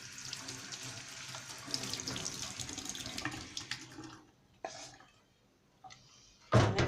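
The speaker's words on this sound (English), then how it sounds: "Gonna wash off my cutting board." Tap water runs steadily into a kitchen sink as a cutting board is rinsed, then cuts out, followed by a few brief splashes and a sharp knock of the board near the end.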